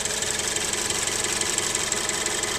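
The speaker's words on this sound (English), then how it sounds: "I think a lot of the clicking that I hear sounds like a Lexus is probably the direct fuel injection" A 2013 Scion FR-S with a Toyota D4S direct-injection boxer engine idling up close, a steady hum overlaid with rapid, continuous ticking and clicking from the injectors.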